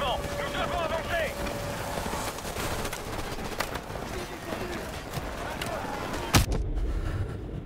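Car exploding in the video game Call of Duty Modern Warfare Remastered, a sharp blast near the end cutting through constant battlefield gunfire and shouted voices.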